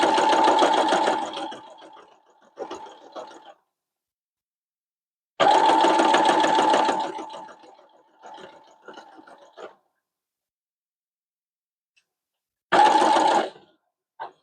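A sewing machine stitches a fabric applique in several runs of steady, rapid mechanical whirring, each separated by silent pauses, the last burst starting abruptly after a long gap.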